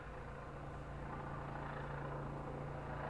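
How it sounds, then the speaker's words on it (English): A helicopter passing overhead makes a faint, distant, continuous drone with a low steady hum that rises slightly in loudness, and no voices are heard. "You'll have to excuse the helicopter if you can hear it."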